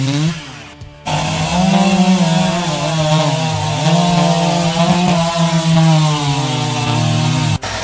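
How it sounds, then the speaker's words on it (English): A chainsaw with a 72.2cc engine cuts into oak, its loud, close engine whine starting abruptly and holding a steady, slightly wavering pitch for several seconds before cutting off. "Witness the combination of power and finesse that makes this chainsaw a true masterpiece in wood cutting."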